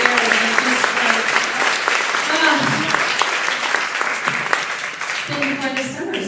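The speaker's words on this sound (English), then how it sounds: "Another round of applause for Shane" A live audience applauds for Shane, a dense, loud wash of clapping with voices and cheers mixed in throughout.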